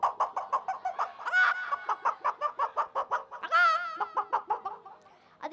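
A human voice mimics a hen, a quick run of rhythmic clucks broken by two drawn-out squawking cackles, loud and close.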